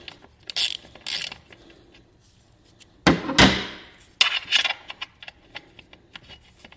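A 10 millimeter ratchet wrench works loose the bolts on a motorcycle oil filter cover, giving short bursts of clicking and rattling with a louder metallic clatter near the middle, close and with no talk.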